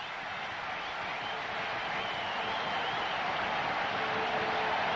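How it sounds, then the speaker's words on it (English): Cricket crowd at a Colombo international between Sri Lanka and South Africa applauding a fine catch, a steady, broad wash of clapping and cheering from a large stand that holds level and swells slightly, with no talk over it. "And the crowd on their feet."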